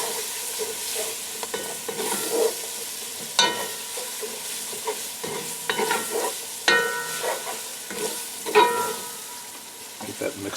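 Onions, celery and green pepper are stirred into a gumbo roux for chicken and sausage gumbo, producing repeated scraping strokes and bursts of sizzling over a low frying hiss, close and fairly loud.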